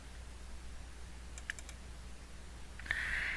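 A computer mouse clicks faintly a few times in quick succession while a database entry form is opened, followed by a steady tone under a quiet background hum.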